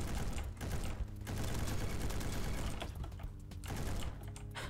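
Continuous rapid gunfire from a weapon in the video game Bad Business, dense and steady with brief gaps between bursts, loud and unbroken throughout.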